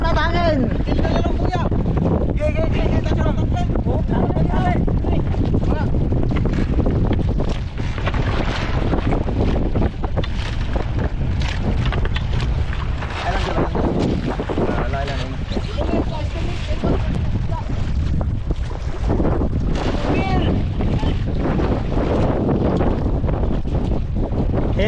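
Strong wind roars steadily across the microphone aboard a fishing boat at sea, a loud continuous rush with buffeting gusts, while someone talks over it throughout.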